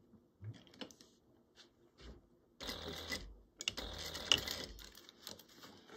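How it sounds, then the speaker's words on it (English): A sewing machine stitches a quarter-inch seam on a small fabric pouch in short bursts, rapid mechanical whirring and clatter starting and stopping between quiet pauses, close but soft, with no speech. "we're going to sew this at a quarter inch seam allowance"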